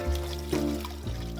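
Drink is poured into a bottle, a short gurgling pour whose pitch rises as the liquid level climbs. The sound is close and moderately loud, lasting just over a second, with no talk.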